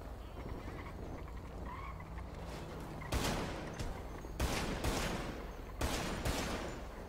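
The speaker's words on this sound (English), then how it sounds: "Everybody quit shooting everybody." Gunfire rings out in GTA V roleplay: several sharp cracks stand apart over a steady game background hum, a few single shots and then a quick pair, none of them very loud.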